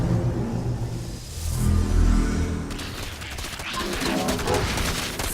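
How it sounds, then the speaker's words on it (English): Video game gunfire from StarCraft II: bursts of rapid weapon fire and rumbling impacts, moderately loud, with a heavier swell early and crackling volleys later. "Brace for incoming fire!"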